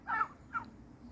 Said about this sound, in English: Oh, they're turkeys.